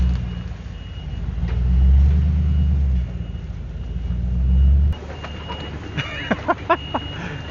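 Kubota tractor running during a mobile home demolition, a loud, steady low diesel rumble that rises and falls, then cuts to a quieter scene with a few sharp knocks and clatters.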